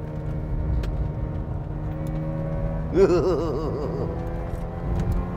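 A car engine hums steadily in a low drone, with a brief wavering whine rising over it midway, then settling back to the steady idle.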